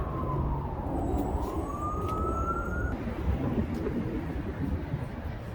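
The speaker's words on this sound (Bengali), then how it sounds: "অ্যাম্বুলেন্স এরকম শব্দ হওয়ার মানে হলো রুগী আছে" An ambulance siren wails in a rising and falling sweep on a busy street for about three seconds, then cuts off, leaving steady loud traffic rumble.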